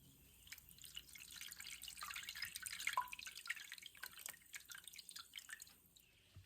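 Excess water drips and trickles off a freshly flipped sheet of handmade paper pulp, a steady close patter of small splashes swelling in the middle and easing toward the end, with no voices.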